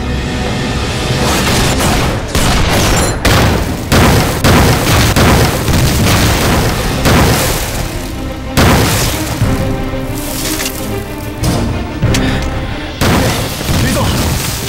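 Artillery shells explode in a war film battle scene set in the anti-Japanese war, heavy booms arriving one after another in a dense, continuous barrage, loud and close, with bursts of gunfire woven through.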